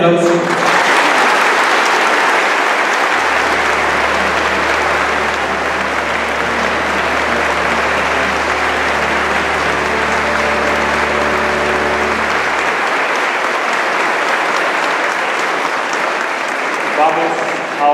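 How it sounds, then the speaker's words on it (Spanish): A parish congregation applauds loudly and steadily to welcome a statue of the Virgin of Zapopan into the church. Dense, continuous clapping fills the whole stretch, with a low sustained organ-like tone swelling beneath it in the middle. "Le damos la bienvenida a la Santísima Virgen con un fuerte aplauso."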